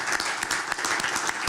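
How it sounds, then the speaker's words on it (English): Applause for Barry at a transit board meeting, a short burst of dense hand clapping from a room of people. "So another hand clap for Barry."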